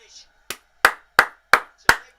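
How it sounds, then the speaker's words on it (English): Five sharp, close hand claps land in an even, deliberate rhythm roughly a third of a second apart, each crisp and isolated against near silence. "Clap to that, clap to that, clap to that."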